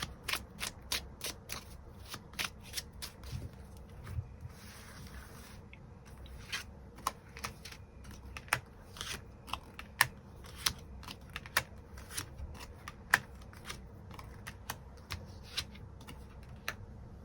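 Tarot cards shuffled and drawn at a quiet table, a long run of crisp, irregular card snaps and flicks with soft rustling between them, close and otherwise silent.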